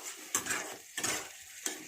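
Potatoes are stirred into a pan of cooked spice paste, giving three short scraping strokes of a utensil against the pan over a soft, continuous sizzle.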